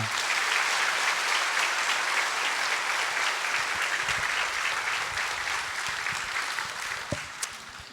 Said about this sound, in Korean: 박사님 나오실 때 큰 박수로 환영해 주시기를 부탁드립니다.